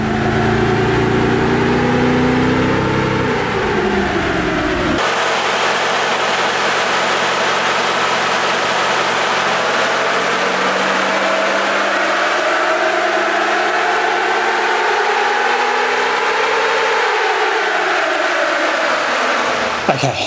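A car engine runs steadily under load on a dyno while comparing ECU tunes, a loud continuous drone with a rising and falling pitch as it sweeps through the revs, the tone changing abruptly partway through.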